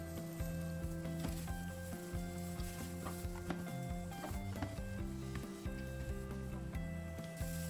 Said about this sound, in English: fry until the onions are soft